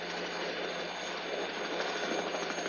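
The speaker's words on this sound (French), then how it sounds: "Hélicoptère!" A loud, steady mechanical roar with a constant whine on top, unbroken throughout, like a helicopter running close by.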